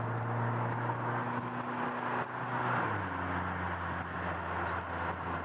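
A Vanderhall Carmel's turbocharged engine drones steadily while driving, with a sustained hum that dips in pitch as a gear change comes, turbo whoosh and wastegate hiss mixed in from inside the cabin.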